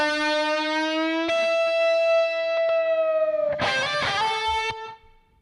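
A distorted electric guitar solo drenched in slap reverb, sustained bending lead notes with a busier flurry near the end, loud and upfront with no talking.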